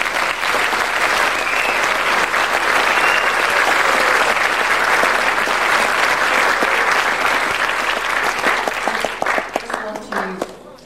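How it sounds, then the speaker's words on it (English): An audience applauds the young performers of a 1998 Plenty Valley Christian School play as the curtain rises again. The clapping is dense and sustained, then thins into scattered individual claps and fades near the end. "I think we're going to raise the curtain again and you can clap these kids again"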